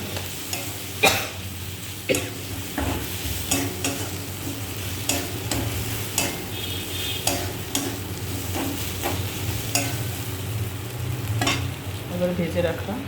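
Spices with turmeric and salt frying in a pan, heard as a steady close sizzle under repeated scraping strokes of a spoon stirring at an irregular rhythm, with no talking.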